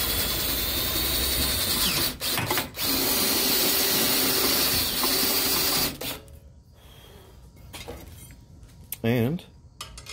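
A power drill with a lubricated bit bores steadily and loudly in a garage, with two brief pauses, for about six seconds. It then stops, and quieter clinks and a short voice follow.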